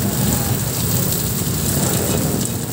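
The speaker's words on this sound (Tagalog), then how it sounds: "Lumakas pa yung ulan." Heavy rain pours steadily during a Marikina River flood check, a dense, loud, close hiss that fills the whole moment with no talking over it.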